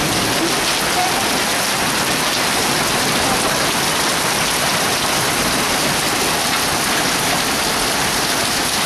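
Steady, heavy rain pours down close by, a dense even hiss of drops hitting surfaces throughout, loud and unbroken with no voices.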